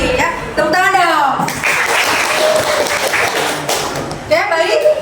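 Classroom applause from a class of students after a group presentation, a dense burst of many hands clapping that runs through the whole stretch, with voices and chatter mixed in over it.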